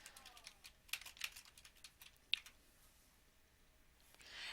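A handful of soft, close keystrokes on a computer keyboard while a search is typed, irregular light taps clustered early, followed by quiet and a faint rustle at the end.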